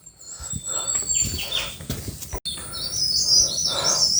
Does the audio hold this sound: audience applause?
no